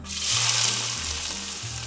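Chopped onions dropped into hot oil with cloves and cinnamon, bursting into a loud, close, continuous sizzle that holds steady.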